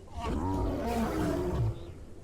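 A baby Golugore sounds its alert call in Path of Titans: one sustained, throaty roar, near and steady for about a second and a half, ending in a lower grunt before trailing off.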